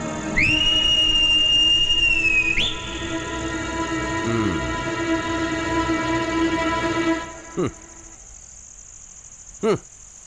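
Whistling by two people in a ghost scene from a Hindi-dubbed film: a loud, steady high whistle held for about two seconds and then wavering, followed by softer sustained tones and two sharp clicks near the end, with no talking.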